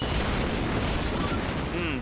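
A dense, booming explosion rumbles continuously after a boss is beaten in the video game Chroma Squad, loud and sustained throughout.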